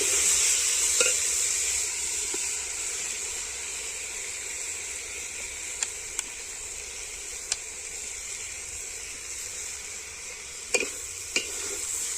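Soaked, seasoned rice is lightly fried in a pan for pulao after nuts were fried, giving a steady close sizzle with occasional sharp stirring clicks and scrapes throughout.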